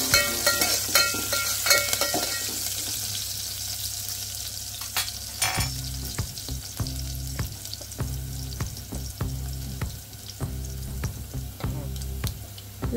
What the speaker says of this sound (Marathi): फोडणी छान भाजून घ्यायची